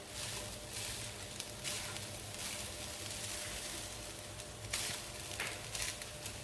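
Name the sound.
stir-frying rice together with vegetables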